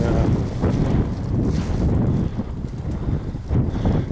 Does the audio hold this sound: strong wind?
yes